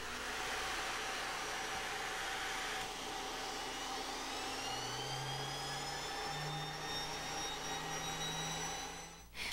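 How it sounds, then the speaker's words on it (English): A Kirby G5 vacuum running its turbo accessory to polish a hard waxed surface gives a loud, steady motor whine and airy roar, with rising tones as the turbo spins up and a brief dip at the end, with no voices. "Use it for polishing hard wax surfaces such as tabletops, paneling, and large flat surfaces."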